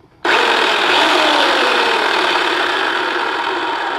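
A loud, close electric chainsaw suddenly whirs up and runs steadily with a harsh, buzzing drone for several seconds while cutting large branches.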